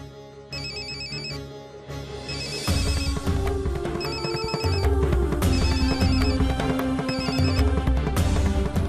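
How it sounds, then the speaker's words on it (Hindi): A phone ringtone chimes in a repeating electronic pattern, ringing several times over a steady musical backing, in a Hindi TV drama. "मैं हितेन को फोन लगा रही हूँ, ओके?"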